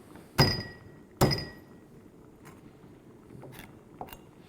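Garlic cloves being smashed on a kitchen surface while cooking: two loud, sharp thumps close together, followed by a few fainter knocks and taps.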